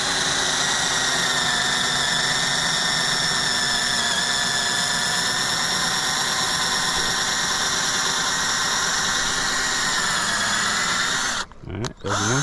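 A Hyper Tough 12V cordless drill runs continuously for about eleven seconds, a loud steady whine with a rough grinding undertone, then stops abruptly.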